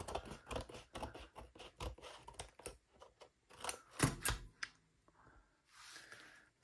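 Scissors snip along the edges of gelli printed papers for a collage, a run of close, dry cutting clicks and crunches in irregular bursts, pausing briefly before a softer rustle at the end.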